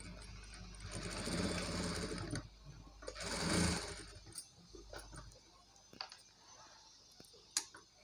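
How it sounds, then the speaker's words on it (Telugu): A sewing machine stitching a blouse neck, running in two steady bursts of whirring followed by scattered faint ticks and clicks, quiet and close with no talking. "దీన్ని ఇలా పెట్టేసి నేనైతే ఇలా స్టిచ్ చేసేస్తున్నాను"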